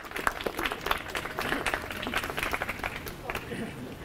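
A German audience at a memorial service claps, dense applause of many hands filling the room throughout, with speech faintly present under it.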